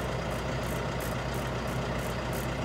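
A John Deere 5R tractor engine runs steadily near 2100 rpm in field cruise, a close, continuous diesel drone with a faint pulsing rhythm and no pauses.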